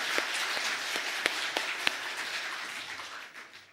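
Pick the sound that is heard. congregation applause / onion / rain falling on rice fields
congregation applause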